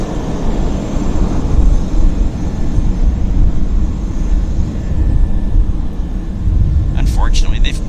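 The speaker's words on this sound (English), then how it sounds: "Unfortunately, they've parked this airplane. No, it's not parked. It's sitting there running." An Air North Boeing 737-800 sits running on the ground at Vancouver Airport, its engines giving a loud, steady low rumble throughout, with a few brief high chirps near the end.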